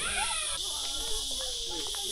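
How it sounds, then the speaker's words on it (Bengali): Crickets chirp steadily in a quiet, shady spot near a cave, a continuous high insect trill holding throughout with faint scattered background sounds beneath. "দেখ, এই জায়গাটা একটা ঝিঝি পোকার ডাক পাওয়া যাচ্ছে।"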